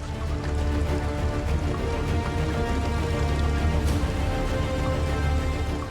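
Rain falling by a fast-flowing river, a dense continuous wash of water noise with fine patter, loud and steady throughout with no voices.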